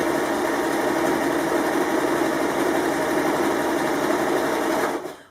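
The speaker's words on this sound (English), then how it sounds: "we'll be back tacking this for security, and then just sew straight down" A sewing machine runs steadily in one continuous stretch, stitching a seam on lightweight pashmina fabric with a close, even whirring buzz before stopping abruptly.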